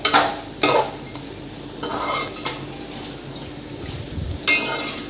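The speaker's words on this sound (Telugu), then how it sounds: "పసుపు, సాల్ట్ వేసుకున్నాం కదా ఫ్రెండ్స్, కలుపుకోవాలి ఒకసారి" Chicken pieces with turmeric and salt are stirred as they fry in a pot, a steady sizzle punctuated by loud metallic scrapes and clinks of the ladle, close up, with no speech.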